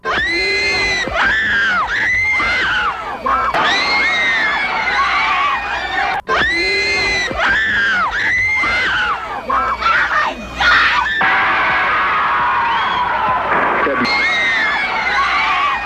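Fans scream shrilly and continuously at a concert, a dense, loud wall of high-pitched crowd shrieks and shouts that swells and surges throughout without a break.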